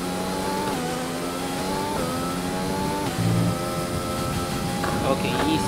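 A Formula 1 race car engine in an F1 video game, a loud high-pitched whine that climbs through repeated gear shifts, each upshift dropping the pitch before it rises again, steady and close throughout.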